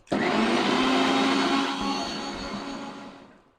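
A mixer grinder whirs at full speed, crushing tomatoes for Malvani tomato saar, a loud steady roar that starts abruptly and then fades and slows as it winds down, with no voices.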